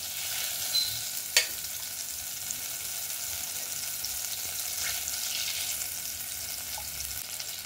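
Butter and oil sizzle softly in a pot, a steady, faint hiss with one or two small pops and no voices.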